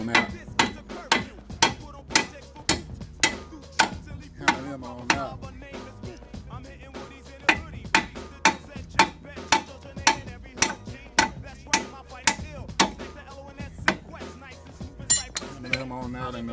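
Steady hammer blows knocking the strut bolts out of the front suspension on a Pontiac Torrent, ringing metallic strikes repeated roughly once a second, close and loud, with brief pauses between runs.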